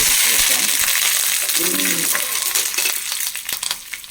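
Fenugreek, dried chillies and curry leaves hit hot oil with a loud, steady crackling sizzle that spits and pops, settling and thinning toward the end.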